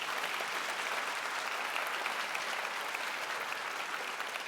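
Audience applause at the OpenInfra Summit 2022 keynote in Berlin, a dense, sustained wash of clapping from a large crowd, even in loudness throughout with no speech over it.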